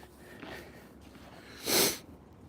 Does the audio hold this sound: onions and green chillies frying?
no